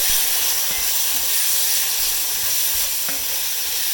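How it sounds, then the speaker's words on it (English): Tomato puree with toasted spices sizzling and bubbling in a pan while being stirred for chicken tikka masala, a loud steady hiss with a few soft scrapes, close and with no talk. "I'm going to give this a quick stir."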